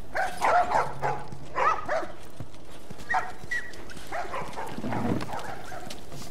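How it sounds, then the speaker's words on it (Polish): Dogs barking in The Last of Us video game, a few short yelps and barks in scattered bursts over a steady background hum, fairly close, with no speech. "O, pieski, hej!"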